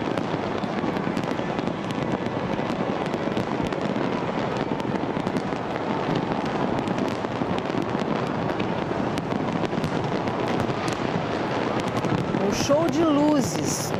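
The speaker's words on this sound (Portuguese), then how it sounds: "Show de fogos vai durar 12 minutos." A New Year's Eve fireworks show over Copacabana beach rumbles as a dense, continuous wash of bursts and crackles, with a roaring crowd throughout and loud and steady from start to finish.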